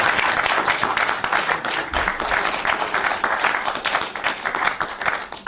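Sustained audience applause following a lecture on the history of Christianity, dense steady clapping from a large crowd filling the room, loud and unbroken throughout.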